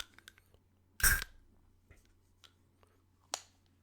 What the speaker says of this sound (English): This fucking cough